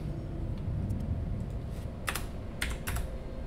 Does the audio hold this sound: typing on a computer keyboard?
yes